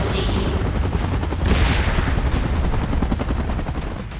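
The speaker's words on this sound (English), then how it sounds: "Chopper in position." In BGMI's Infection Mode, a helicopter's rotor roar mixes with bursts of gunfire and booms, loud and constant throughout, with no voices.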